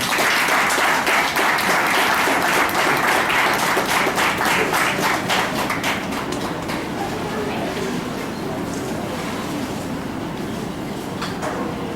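Applause from guests at a bookstore book launch in Bangalore, loud and dense at first, then thinning into scattered claps and fading to a quieter patter by the end.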